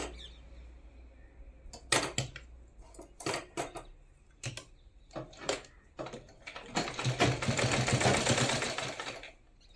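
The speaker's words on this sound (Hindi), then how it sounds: "अब हमने डायरेक्ट इसको ऐसे फोल्ड करना है और इसके ऊपर रख के हमने इसको सिल देना है" A sewing machine stitches the folded waistband of a Rajputi kalidar lehenga. It runs in short, close bursts separated by pauses, then settles into a longer, steady run near the end.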